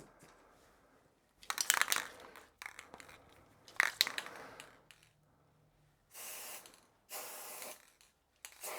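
Several short bursts of activator liquid spraying from a spray bottle, with separate hissing pulses spread across the stretch, some louder and close, others softer, with quiet pauses between them.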